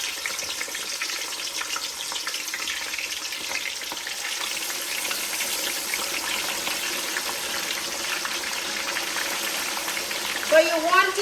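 Fish frying in a pot of oil, a steady, dense sizzle and crackle running throughout at moderate loudness, with a brief bubbling burst near the end.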